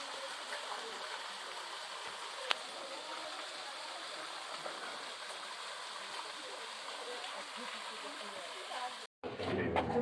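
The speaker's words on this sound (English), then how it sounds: "what a fantastic water feature" At Pena Palace in Sintra, a water feature pours in a steady, broad rushing splash that fills the scene, then cuts off abruptly near the end.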